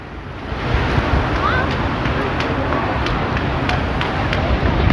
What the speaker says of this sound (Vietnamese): cho nên là sóng biển nó nhẹ nhẹ thôi nè